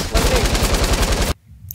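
Rapid automatic gunfire in the video game Fortnite, a loud, close burst of evenly spaced shots lasting over a second before cutting off abruptly into near silence.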